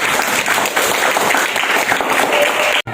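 A classroom of students claps for a classmate, dense steady applause lasting nearly three seconds before stopping abruptly.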